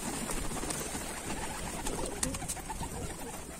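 Several pigeons released into the air at a Turkish pigeon loft, a continuous busy wash of wing flutter and soft cooing with scattered sharper chirps, fairly steady in level throughout.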